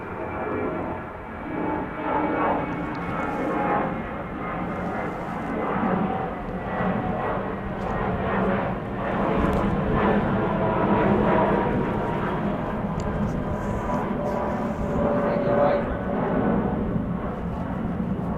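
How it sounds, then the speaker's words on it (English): An airplane flies overhead, its engine roar loud and sustained throughout as a steady broad rumble with slight swells, with no other sounds standing out. "Yesterday it was like a minute and a half before the plane could clear."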